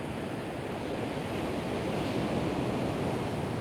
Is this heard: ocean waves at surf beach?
yes